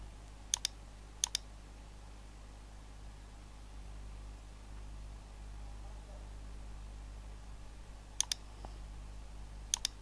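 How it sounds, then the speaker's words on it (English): A few short bursts of computer keyboard typing, a phone number being keyed into a browser, as quick clustered clicks spaced apart over a low steady hum. "I am just going to type the number on my browser."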